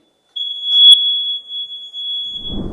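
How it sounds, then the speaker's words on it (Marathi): A single long, steady electronic beep from a voting machine holds one high pitch for about two seconds, loud and close, with a brief rumble of noise at the end. "त्याचबरोबर बीपचा आवाज येईल"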